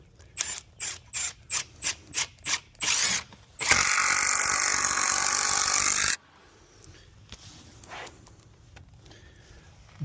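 A screw being driven through plywood to secure a backing: a quick run of about eight short ratcheting bursts, then a loud sustained driving whir for a few seconds, followed by a quieter tail, close and without talk.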